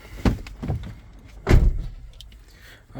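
Power sliding doors on a 2011 Toyota Alphard close automatically with a few low mechanical thuds and a whirring motor, fairly close, with a quiet gap between the closing sounds.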